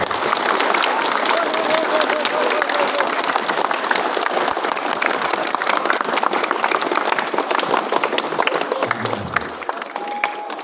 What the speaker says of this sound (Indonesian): Untuk itu silakan aplaus bersama